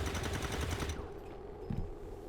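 Rapid bursts of trooper gunfire from XCOM 2, a dense rattling volley for about a second that cuts off, followed by a faint lone shot and quiet game ambience.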